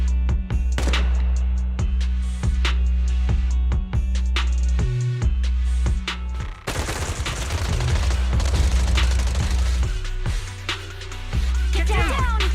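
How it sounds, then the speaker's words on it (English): Suppressive marching gunfire in the Zenless Zone Zero video game, rapid bursts of loud, sharp shots crackling in irregular volleys from several directions over a low rumbling game score, continuous and close. "Gunfire? This pattern. Suppressive marching fire."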